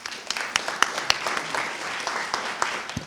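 Audience applause at a university research book talk in the evening, a moderate burst of scattered claps with sharp individual hand strikes standing out, steady for about three seconds with no talk over it.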